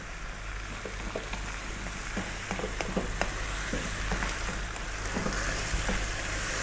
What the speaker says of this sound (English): Stay again on this nice highish heat. We might get some moisture from the mushrooms as they cook.